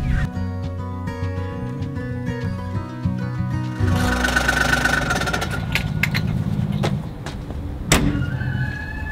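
A small UTV engine idles nearby at a farm barn, then revs up into a louder, rougher run with a few clunks over the steady engine noise.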